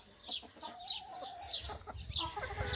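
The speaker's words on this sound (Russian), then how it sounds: "Какая красивая курица, девчат." A hen clucks close by in a series of short, bright calls with brief pauses, a farmyard chicken vocalizing alone at moderate volume.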